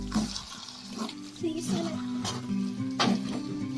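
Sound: water added to green chili pickle in the pan

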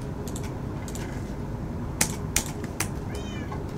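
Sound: cat meowing in Minecraft video game

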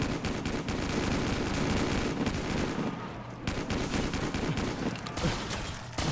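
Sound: automatic weapons firing in a video game zombies map

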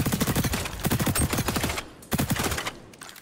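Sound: gunfire from weapon in video game XDefiant

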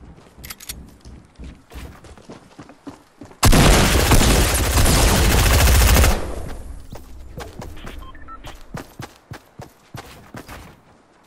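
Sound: 3-round burst gunfire in Fortnite video game

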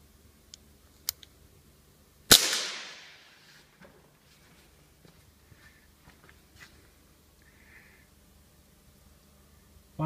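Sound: Crosman 2240 CO2 air pistol shot being fired

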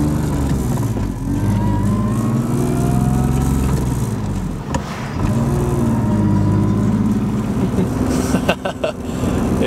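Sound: BMW E36 325i M50 driving, loud engine and gearbox

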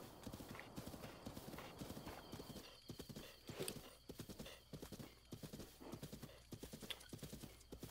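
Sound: horse galloping in Zelda Breath of the Wild video game

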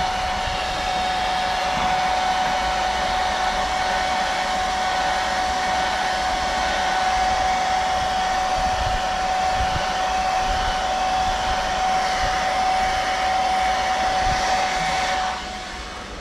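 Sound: hair dryer blowing air

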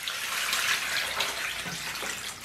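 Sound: water poured onto cleaned beef intestines

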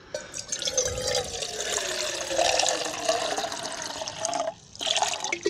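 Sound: water poured into a stainless steel pot

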